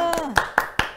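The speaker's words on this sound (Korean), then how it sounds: "박수 축하드립니다" Hands clap in congratulation for a correct quiz answer on an army-themed Korean show, four crisp, evenly spaced claps close to the microphone, following a brief voice at the start.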